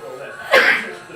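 One abrupt, close sneeze bursts out during a live NFL draft watch-party broadcast, then fades into quiet room tone.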